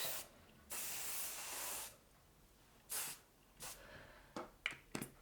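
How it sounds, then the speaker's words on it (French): Hairspray mists onto a styled evening hairdo in several close hissing bursts: two long sprays, then a few shorter puffs, with quiet gaps between and no talk. "à nouveau, laquez le tout."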